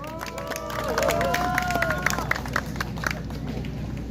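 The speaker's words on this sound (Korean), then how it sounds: "박수 한번 주세요." Crowd at an outdoor political rally claps and murmurs, scattered hand claps over hubbub and a voice over a loudspeaker, steady and moderately close.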